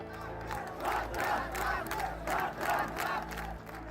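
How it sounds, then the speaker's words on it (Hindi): A large crowd chants slogans in rhythmic surging waves along the streets of Begusarai during a funeral procession for a fallen soldier. Many voices rise and fall together in repeated loud bursts over a constant crowd murmur. "बेगूसराय की सड़कों पर भारत की जयकार के साथ ऋषि रंजन सिंह अमर रहे के खूब नारे लगे"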